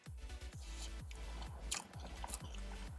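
Close-up chewing of a bite of Jollibee Palabok Fiesta, glass noodles in a rich sauce: soft, wet, rhythmic mastication with squishy bites repeating about every half second, heard alone without talk.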